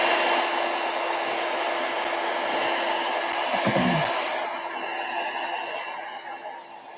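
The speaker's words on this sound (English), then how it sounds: "Don't forget, though, if your heat gun's really hot, you can melt it." A heat gun blows steadily to dry gesso on a craft project, a loud continuous whoosh that holds for several seconds before easing slightly toward the end.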